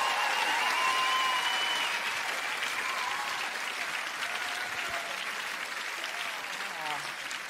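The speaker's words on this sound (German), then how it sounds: "ich bitte jetzt mal einen ganz riesigen Applaus für meine Tänzer." An audience at a televised talent show final applauds dancers, dense steady clapping that starts strong and slowly thins, with faint voices and brief tones rising through the crowd noise.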